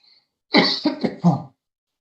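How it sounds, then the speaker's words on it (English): A person coughs in a short burst of three or four harsh, throaty hacks close to the microphone, starting after a near-silent moment. Nothing else sounds around the coughing. "Sorry, I got a cough again."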